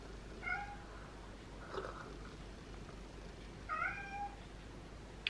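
A cat meowing indoors, two clear drawn-out meows a few seconds apart with a faint shorter sound between them, close and moderately loud against a quiet room.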